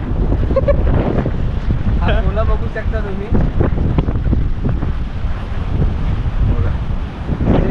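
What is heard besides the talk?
strong wind and waves at Mandvi Beach, Ratnagiri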